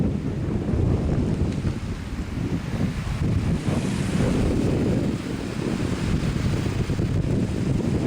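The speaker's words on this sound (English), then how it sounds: "it's a bit breezy, but there is virtually nobody on this beach." Steady wind roars across a microphone on a wide, empty Hebridean beach in Scotland, with waves and surf washing continuously underneath, loud and unbroken throughout.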